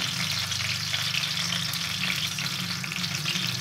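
Cumin seeds fry in hot oil in a pan, giving a dense, even hiss and fine crackle that carries on steadily and close up without any pause.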